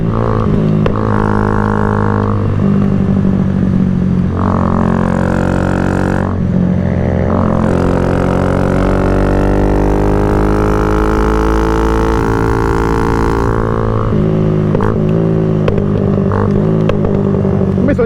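A motorcycle ridden on a road trip gives a loud, close, continuous engine drone that rises and falls in pitch as the throttle changes, with no pause across the whole stretch.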